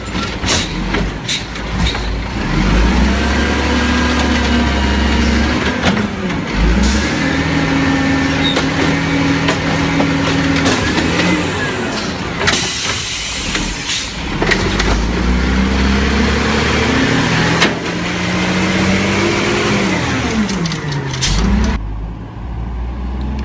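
A CR&R garbage truck engine rumbles loud and close, its pitch swelling and sagging with revs, with an air-brake hiss and a clunk near the end and no talking.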